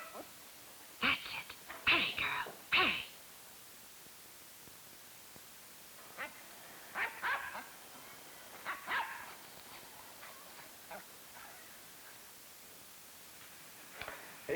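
A dog named Tiger barks at a cat up a tree in short clustered bursts of sharp barks and yips, separated by quiet gaps, with a faint static hiss underneath.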